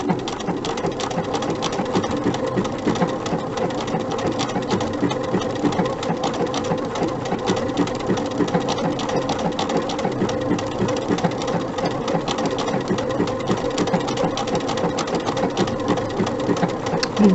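A sewing machine running continuously through a buttonhole stitch on appliqué, steady fast mechanical chatter of the needle close up, even in loudness from start to finish with no voices.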